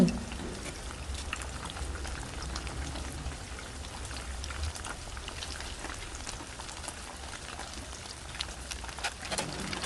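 Tofu egg frying in hot oil gives a steady, dense sizzle that crackles continuously and evenly at moderate loudness with no talk.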